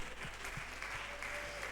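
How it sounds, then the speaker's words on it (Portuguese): Audience applause at a religious teaching gathering, a steady patter of clapping hands lasting throughout, moderately distant and filling the room. "Uma salva de palmas."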